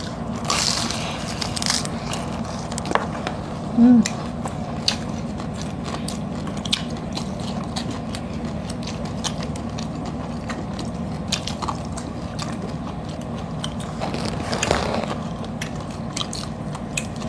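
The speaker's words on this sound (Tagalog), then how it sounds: "Kain po tayo. Chicharong balaklak." Crispy chicharon bulaklak pork skin is eaten close to the mic, giving steady crunchy biting and chewing with crackles and scrapes and a few louder bites, without any talking.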